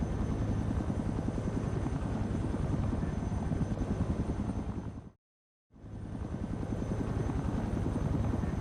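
A helicopter's rotor in Project Reality chops loudly and steadily, drops to silence for a moment, then resumes at full strength.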